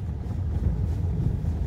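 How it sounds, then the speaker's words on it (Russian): A car lurches along a rutted, muddy field road after rain, filling the cabin with a steady, close low rumble and wind-like roar throughout, with no voices. "Машина туда-сюда. По колеи носит."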